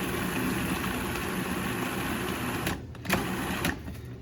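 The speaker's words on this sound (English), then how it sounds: "So you put your food processor together," A food processor whizzes pickles for a spread, running as a steady, loud, close mechanical whir, then stopping and starting in short bursts near the end.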